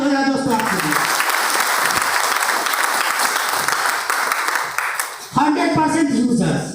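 Loud, sustained applause from a crowd fills most of the stretch, dense clapping without a break, with a brief dip near the end before voices come back in.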